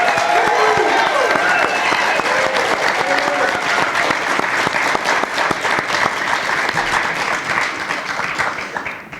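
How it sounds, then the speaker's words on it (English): Audience applause at a Cincinnati mayoral debate, a loud, dense and sustained round of clapping close by that carries on for the whole stretch and eases slightly toward the end, with scattered voices mixed in. "Let's have a round of applause for Mr. Cory Bowman."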